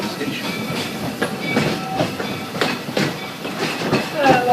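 The Walt Disney World Railroad train rolls along, wheels clattering over rail joints in a steady clickety-clack, heard up close from aboard with faint voices and brief squeals.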